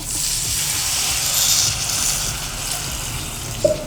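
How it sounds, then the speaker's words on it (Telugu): Water pours steadily into a pan of fried capsicum tomato masala curry with a hissing, gushing rush for several seconds, ending with a small clink near the close. "ఇప్పుడు ఇందులో మనకి తగ్గట్టు వాటర్ వేసుకుందాం"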